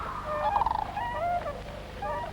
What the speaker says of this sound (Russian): Птицы готовятся к отлету в теплые края.